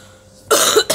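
A person coughs twice in a kitchen, two harsh close bursts after a quiet moment, the first longer and the second brief.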